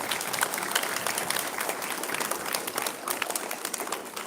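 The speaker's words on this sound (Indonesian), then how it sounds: "Boleh berikan tepuk tangan untuk kita semuanya." Steady, dense applause from an audience at an Indonesian Independence Day flag ceremony marking the 80th anniversary, many hands clapping continuously for several seconds without voices on top.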